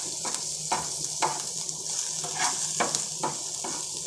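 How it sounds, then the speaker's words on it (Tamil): Onions frying in oil with turmeric, chili powder and salt for an egg masala, a steady close sizzle broken by repeated scraping stirs of a spoon against the pan. "இதை லைட்டாக இதை வறுத்துக்கிடலாம்"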